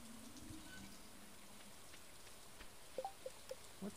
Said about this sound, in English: Yeah, it's also raining here.